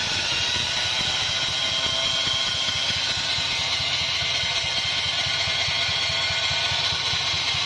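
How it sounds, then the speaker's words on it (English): A trimaran's diesel engine is spun over to run its fuel pump, a rapid, even mechanical chugging and rattle that holds steady throughout, loud and close, with no voices. "I'm just going to spin this engine and make that fuel pump out of"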